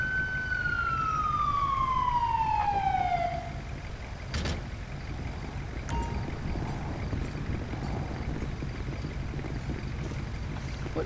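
A falling siren wail from an ambulance in the GTA V LSPDFR police game sweeps down and stops, leaving steady engine and road rumble with scattered knocks and clunks throughout.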